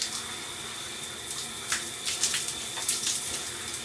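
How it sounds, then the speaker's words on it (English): Shower water runs steadily while first shampoo is rinsed out of hair, a continuous splashing hiss with small irregular bursts, quiet and alone. "you're gonna go ahead and rinse that first shampoo out."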